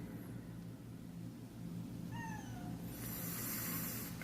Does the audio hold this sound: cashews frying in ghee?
no